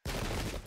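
A musket volley rings out in the Sengoku Jidai strategy game during an Oda versus Ikko-Ikki battle, a sudden loud crackling burst of many overlapping shots that cuts off abruptly after a fraction of a second.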